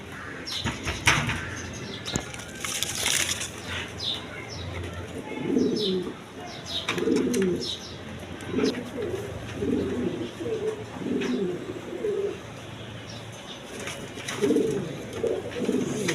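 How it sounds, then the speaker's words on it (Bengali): Lahori pigeons, including a male, coo repeatedly in a rhythmic series of soft, close murmuring calls at a pigeon seller's stall, with brief wing flaps and faint chirps early on. "দর্শকবৃন্দ এখানে একটা লাহোরি নর কবুতর আছে"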